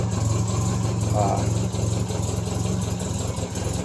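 A classic British car sits at idle at a British car show, its engine running slightly rich with a steady, rumbling low burble that stays close and even throughout, while a person talks over it.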